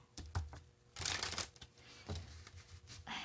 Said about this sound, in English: Another shuffle, they say.